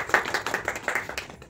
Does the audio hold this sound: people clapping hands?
yes